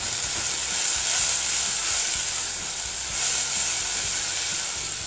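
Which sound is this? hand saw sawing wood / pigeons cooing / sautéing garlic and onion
sautéing garlic and onion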